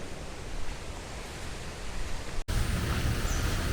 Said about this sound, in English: It's too much of wind, gusty wind.